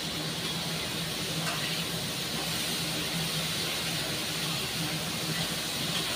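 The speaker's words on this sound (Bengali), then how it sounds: "ভেন্ডিটা বেশি একটু লাল লাল করে ভাজা দিতে" Okra fries in a pan over a gas flame, giving off a steady, dense sizzling hiss that stays even and close throughout, with no one talking.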